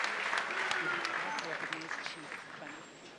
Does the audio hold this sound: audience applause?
yes